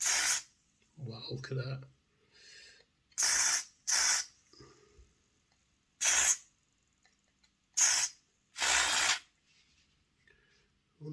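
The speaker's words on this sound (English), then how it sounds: "give this a good scoosh out with the contact cleaner" Contact cleaner from an aerosol can is sprayed onto the commutator of an HO gauge model train motor in several short, sharp hissing bursts. A person speaks briefly between the sprays.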